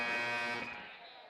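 A long, loud buzzer sounds in a high-school boys' basketball gym, a steady harmonic blare that holds for about half a second and then fades away.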